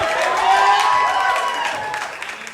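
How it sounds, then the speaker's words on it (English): Audience applause and cheering for a performer at the House of Yes variety show, a crowd clapping steadily throughout with some tonal voices or music mixed in, fading slightly near the end. "A big round of applause for Miriam."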